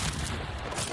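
Gunfire in a video game: a dense, loud burst of rapid shots and blasts filling the whole second, with no clear gaps between them.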